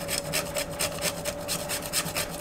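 Tonka bean rubbed against a grater over cake batter makes a steady, fast rasping scrape in even repeated strokes, close up and fairly quiet, with no one speaking.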